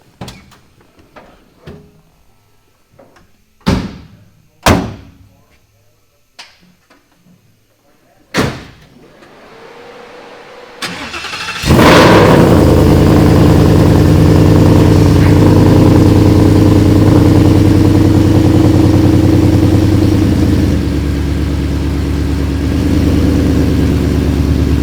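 A 1970 Ford F100 with a Coyote engine and Whipple supercharger: a few door thumps and clunks, then the engine cranks and fires loudly and settles into a steady, heavy idle.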